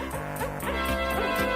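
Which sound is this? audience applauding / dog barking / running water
dog barking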